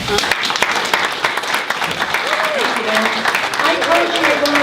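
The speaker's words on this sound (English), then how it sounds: "Big round of applause." Audience applause at a community investment conference, steady clapping from a crowd with some voices and a brief tonal sound mixed in underneath.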